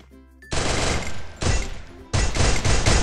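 Three loud bursts of rapid automatic fire from the Mãng Xà gun in Free Fire, each a dense rattle, separated by short gaps after a quiet opening.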